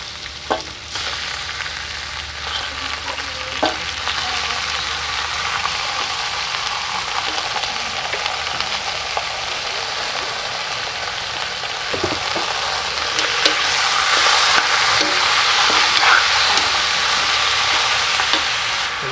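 Chicken pieces fry in a hot pan with onions for a Filipino chicken binakol, a loud, steady sizzle with scraping stirring strokes throughout, growing slightly louder toward the end, with no talking.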